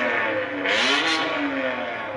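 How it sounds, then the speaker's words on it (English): A Lamborghini race car engine revs hard in one sustained, loud, close roar with a rising and falling pitch, with no voices over it. "A race car, guys. I'm going to show you some of its power"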